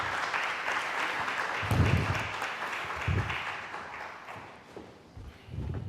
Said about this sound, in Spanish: les voy a pedir un aplauso de bienvenida